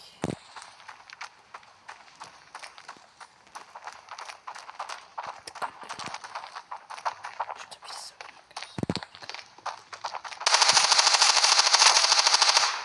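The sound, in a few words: gun firing in a video game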